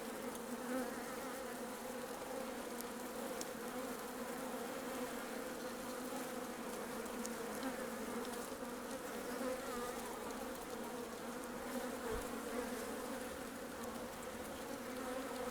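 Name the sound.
honeybees buzzing in a hive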